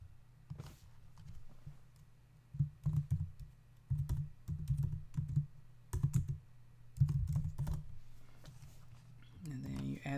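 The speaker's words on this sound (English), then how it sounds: "so I'll just type it in." Typing on a computer keyboard while filling in a buyer's real estate contract form, with clusters of quick, close key taps in bursts and pauses, mixed with a voice talking over the keystrokes.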